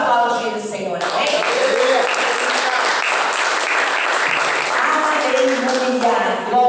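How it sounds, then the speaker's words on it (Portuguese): A church congregation applauds during a worship service, a dense, loud, continuous wash of clapping lasting several seconds, with a voice and tonal sound audible at the start and end. "E vamos aplaudir o Senhor"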